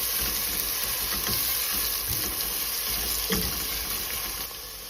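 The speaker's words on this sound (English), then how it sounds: "And let's go ahead and saute this for like a minute or 2." Onion and garlic sautéing in a pot for lentil and vegetable soup, a loud, steady hiss of frying that runs without pause, with a few faint stirring clicks and no talk.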